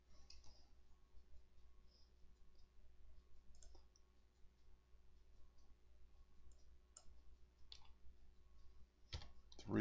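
A computer mouse clicks faintly and sparsely while working in Corel Draw, scattered single clicks over a quiet hum, with a louder cluster of clicks right at the end.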